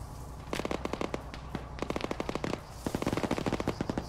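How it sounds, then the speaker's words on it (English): A mounted gun fires during a military video game, loud rapid automatic bursts with short gaps between them, sharp and close. "That was a mounted gun up there."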